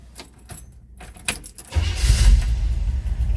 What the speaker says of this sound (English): let's go ahead and fire up that 327.